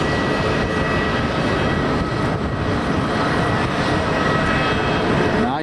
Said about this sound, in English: we've got an A330 Neo coming in at Delta Airlines.